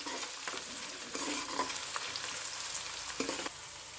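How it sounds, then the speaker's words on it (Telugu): Green chilli pieces fry with onions and turmeric in a pan, giving a bright, continuous close sizzle with several stirring strokes scraping through it and no voices. "ఇప్పుడు పచ్చిమిరపకాయ ముక్కల్ని వేసుకొని వేయించుకోవాలి."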